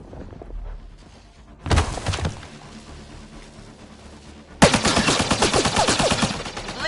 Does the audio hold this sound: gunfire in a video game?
yes